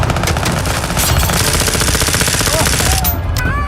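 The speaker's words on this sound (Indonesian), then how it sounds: "Borne menyandra seorang siswi dan memberondong polisi dengan senjata otomatisnya" Automatic weapon fire in a film scene, a robber sprayed at police with an automatic gun: dense, continuous rattling bursts, loud and close, mixed with a busy soundtrack.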